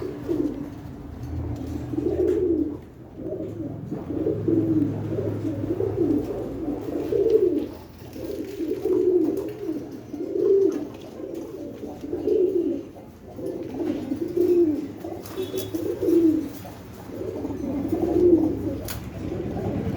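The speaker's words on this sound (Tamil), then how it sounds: "நல்லா இருக்குல்ல புறா அது" Pigeons at a Kurumbur poultry sale of pigeons, guinea fowl and turkeys coo repeatedly and close by, with soft rolling calls about every two seconds over a quiet background.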